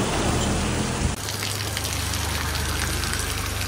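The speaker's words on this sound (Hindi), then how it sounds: "बट फिर भी बारिश बहुत तेज़ है आज" Dense, heavy monsoon rain in Mumbai pours steadily, a loud continuous hiss of drops with a low rumble underneath.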